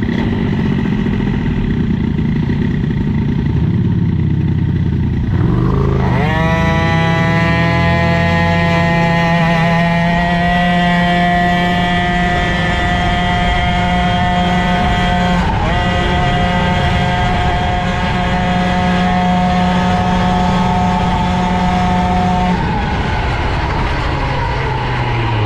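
A moped engine fitted with an Airsal CPI 70cc cylinder and a Boost carburettor runs close by, first idling roughly, then revving up into a steady buzzing drone that holds for most of the stretch before dropping back down.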